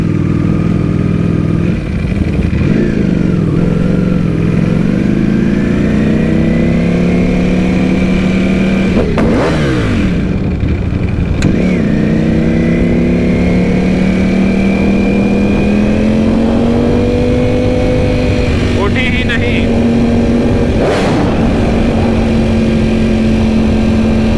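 A sport motorcycle engine roars and revs continuously, pitch rising and falling with repeated throttle blips, loud and close the whole time.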